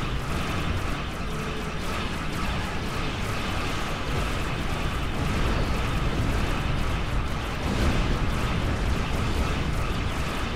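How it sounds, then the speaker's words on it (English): Continuous, dense rumbling blasts overlap into a steady roar of explosions in a space battle in the video game Star Trek Online, loud and unbroken, with booming low end and crackling bursts throughout. "That's a lot of explosions."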